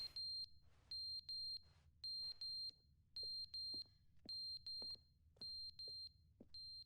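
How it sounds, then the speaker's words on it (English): Smoke alarm in The Stanley Parable video game beeping in a steady pattern of paired high chirps, repeating several times, fairly faint over a low background hum. "Smoke alarm?"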